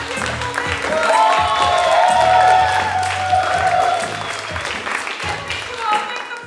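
Festival crowd claps and cheers in a dense, sustained burst that swells and then eases, with scattered shouts and a voice talking over it.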